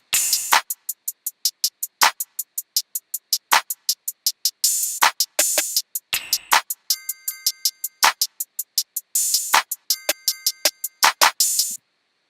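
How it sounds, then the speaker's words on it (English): Short bright metallic ticks repeat in a quick steady pattern, punctuated by sharper hits and brief sparkly bell-like chimes, with no voices. "one more percussive element, which is this kind of twinkly bell thing"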